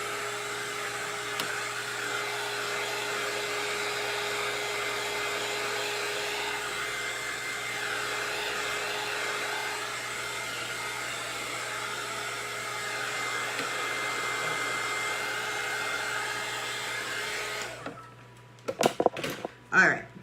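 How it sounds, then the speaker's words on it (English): A cheap heat gun blows steadily on an alcohol ink tumbler, a close, continuous whirring hiss lasting about eighteen seconds before it shuts off, followed by a few handling knocks. "All right, so I'm just gonna hit this with my heat gun."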